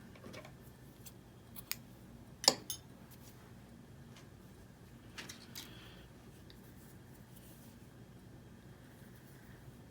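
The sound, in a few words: scissors snipping off excess yarn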